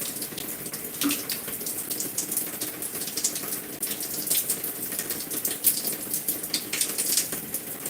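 Water streams and splashes steadily onto hair during a wash-and-go routine on gray natural hair, a continuous close gushing sound like a running tap that carries on without pause.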